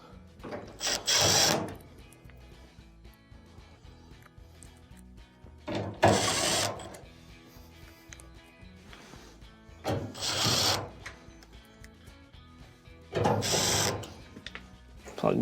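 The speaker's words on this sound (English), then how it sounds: "Let's go ahead and reinstall our screws." Four bursts of a screwdriver driving screws back into an LG dryer during a belt switch repair, each a ratcheting, whirring spin of a second or so, separated by quiet pauses.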